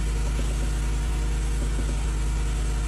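A KONNER&SOHNEN KS 10000E-3 generator engine runs close by with a loud, steady, deep droning hum that does not change throughout.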